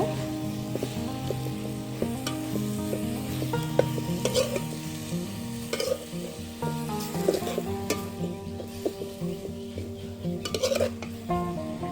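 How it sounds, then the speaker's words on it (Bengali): Puti fish sizzle in a pan with sour leaves and spices while a utensil gently turns them, producing a continuous frying hiss broken by repeated metallic clinks and scrapes against the pan. "এখন মাছগুলাকে দিয়ে আমি একটু হালকা নেড়ে চেড়ে নিব"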